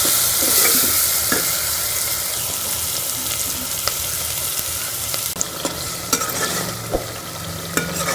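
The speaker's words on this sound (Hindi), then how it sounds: "ये सारे मसाले डाल देंगे। इसको अच्छी तरह से भून लेंगे मसाले को, ताकि हमारे टमाटर जो है अच्छी तरह से गल जाए।" Spices and tomatoes frying in a pan for a capsicum and potato dish, a continuous loud sizzle with scraping strokes of a spoon stirring through, and occasional clinks against the pan.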